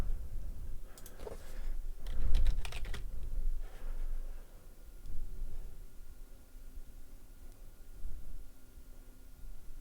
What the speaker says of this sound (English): If you do hear typing, that's just me making alerts in the private community that I offer.